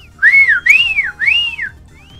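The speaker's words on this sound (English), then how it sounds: "I'm whistling." A person whistles three rising-and-falling swooping notes close up, loud and clear, with a faint fourth note trailing off at the end.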